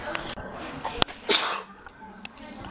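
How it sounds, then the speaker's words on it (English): A single sharp sneeze bursts out close by, with a quick breath and faint room noise around it. "I'm gonna sneeze first."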